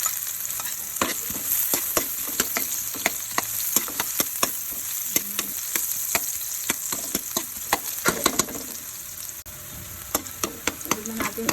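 Onion sizzles in a pan with ginger for a mussel dish, a bright, steady frying hiss with frequent clicks and scrapes of stirring, close and without talk.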